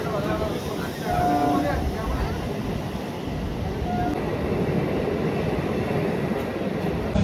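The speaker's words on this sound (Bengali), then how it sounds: "নিচ থেকে টিকিটটা কেটে নিয়েছি আর ট্রেনও ঢুকে গেছে," A train pulls into a station at night, its low steady rumble filling the platform while people talk nearby.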